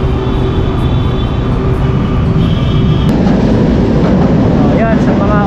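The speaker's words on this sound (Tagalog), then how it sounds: "ito yung LRT station ng Pedro Hill" LRT train at Pedro Gil station in Manila, a loud steady rumble and hum of rail cars filling the platform, with a squeal near the end and people talking in the background.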